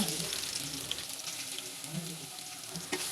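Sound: chopped ginger and garlic paste frying in oil

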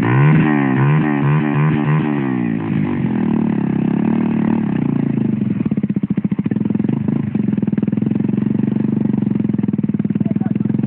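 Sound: motorcycle engine running

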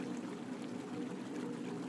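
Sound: dripping, steadily flowing water

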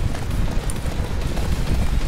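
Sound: horse galloping in the Attack on Titan video game

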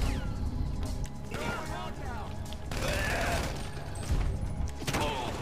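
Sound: gunfire in GTA V video game

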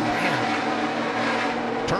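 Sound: NASCAR race car engine losing grip at Michigan

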